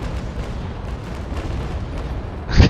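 A heavy warship cannon fires in Naval Action: a low, rumbling roar of distant cannon fire builds steadily, then a sharp, loud boom breaks out at the end.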